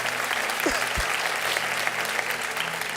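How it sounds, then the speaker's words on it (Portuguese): Applause from a church congregation, a loud continuous patter of many hands with a couple of low thumps early on and a steady hum beneath. "Isso, pode dar um aplauso."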